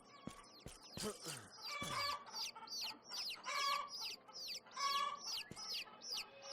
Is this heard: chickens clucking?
yes